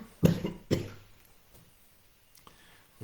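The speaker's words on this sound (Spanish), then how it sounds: "me dan accesos de tos" A man giving a law lecture in Spanish while suffering a sore throat coughs twice in sharp, close succession, followed by a couple of softer faint throat sounds and quiet room tone.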